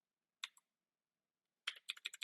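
Computer keyboard typing during a browser setup session: a brief pair of close, crisp keystrokes, a pause, then a quick rhythmic burst of about six to eight clicky key presses.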